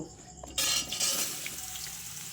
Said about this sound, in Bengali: আমি এদিকে একটা কড়াইতে কুমড়ো আলুগুলো ভেজে নেব